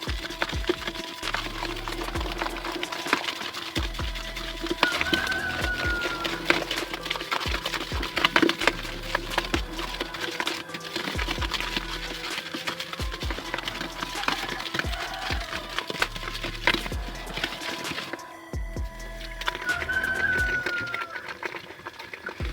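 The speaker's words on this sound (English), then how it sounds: "And you continue mixing" A 10-liter batch of homemade liquid soap is stirred until it dissolves, a continuous close scraping and irregular knocking of the stirrer against the container, with a few faint bird chirps in the background.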